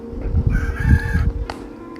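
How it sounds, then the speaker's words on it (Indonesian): A rooster crows once, a full drawn-out call with a strained, rising and falling tone, loud and close with no talking. "Terdengar suara sayup-sayup dari kejauhan, suara ayam berkokok."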